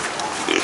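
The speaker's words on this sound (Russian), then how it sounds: "Ну что, свиньи Пеппы, опять роете" Pigs rooting around give off a short burst of low snorting grunts in a farmyard, close and fairly loud.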